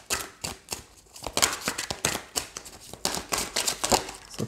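A deck of tarot cards is cut and shuffled by hand, giving a steady run of crisp, close card snaps and riffling flicks for several seconds with no talk.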